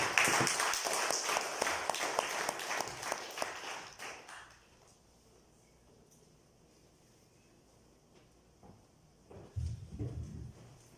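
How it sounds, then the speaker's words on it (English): An audience at a club relaunch gives a fairly modest burst of clapping that fades out after about four seconds, leaving a quiet room before a brief muffled knock near the end. "with a thunderous round of applause"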